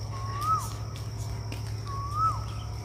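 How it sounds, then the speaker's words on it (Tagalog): A bird gives two clear whistled calls, rising then dropping, about a second apart, over a steady low outdoor hum. "naririnig mo huni ng ibon"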